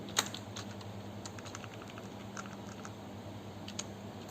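A name being typed on a computer keyboard, with soft, quick key clicks tapping steadily and faintly with no voices.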